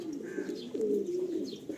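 A female Madrasi pigeon coos softly and close by, giving a short series of low, rolling coo notes with a slight rise and fall over a couple of seconds.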